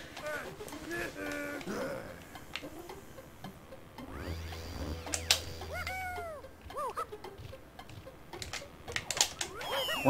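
A cat screaming from behind a closed door, several rising and falling yowls cutting through a busy mix of game music and someone talking over it.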